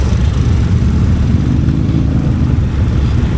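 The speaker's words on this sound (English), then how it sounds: "whenever they rev the range and start going, you really feel the blast of their exhaust going right into you" Triumph and other motorcycles on the Distinguished Gentlemen's Ride through Edinburgh, loud continuous engine roar with revving exhaust rumble, close and dense, with no talk.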